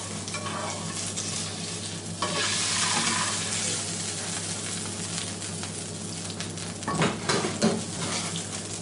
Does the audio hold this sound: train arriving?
no